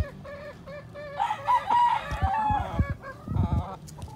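A rooster crows a long, wavering call close by, followed by several short clucks and low scuffling sounds.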